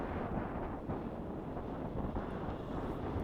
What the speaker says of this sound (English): that wind ain't slacking off either